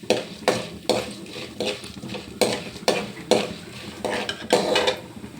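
Urad dal is stirred and roasted in a pan, a spoon scraping and clinking against the metal in a steady rhythm of repeated strokes over a soft background sizzle, with no talking.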